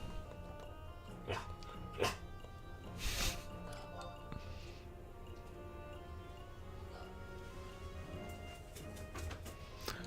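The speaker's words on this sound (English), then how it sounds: "The Rottweiler is downstairs and she's not happy with me" A Rottweiler barks a few times from downstairs, faint and distant. The barks come in scattered bursts over a low, steady background hum.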